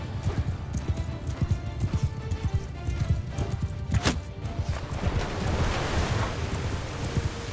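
Horse hooves galloping in the video game Mount & Blade II Bannerlord, a steady rapid clip-clop rhythm running throughout, with surf and wind in the background.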